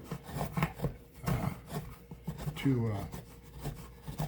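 A gouge pares waste wood from the back of an instrument top, giving short rasping scrapes in an uneven rhythm, close up, with someone talking over and between the cuts.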